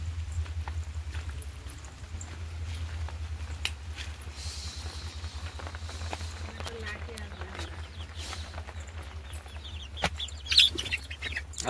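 Hens and chicks cluck and cheep around a village coop on a rainy day. Scattered calls sit under a steady low hum while someone talks.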